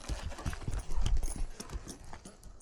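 Horse hooves clip-clopping steadily on firm ground during a training session, a brisk run of close hoofbeats that stays fairly quiet against a faint outdoor background.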